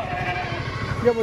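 A Kathiawadi goat gives a brief bleat near the end, at a livestock sale where someone talks loudly throughout, the animal sound short and partly under the voice.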